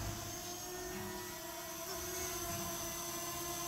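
Fimi X8 Mini drone hovering just after takeoff over a driveway, a steady, fairly loud propeller whine with a sustained tonal buzz and low rumble, constant throughout and heard alone.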